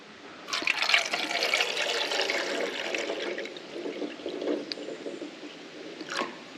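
Water pours steadily into a pan of eggs for hard boiling for several seconds, a full rushing splash that softens as it continues, close by and without speech.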